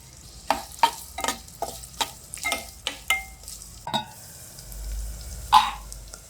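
Chopped onions sizzle in hot ghee in a pan while a spoon stirs them in a series of sharp scraping strokes, with a steady low frying hiss beneath.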